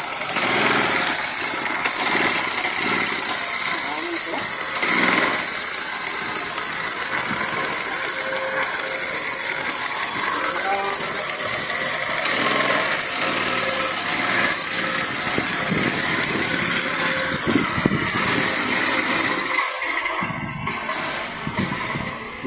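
Boat outboard motor mounted on a converted e-bike runs steadily and loudly for most of the span, a continuous buzzing engine drone with some voices mixed in, then sputtering and fading near the end as it dies.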